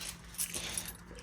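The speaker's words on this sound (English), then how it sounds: "Oh, here's my keys." Keys jangling briefly near the microphone while someone prepares to test a vehicle's starting batteries, a faint metallic rattle with a couple of small bursts over low background hum.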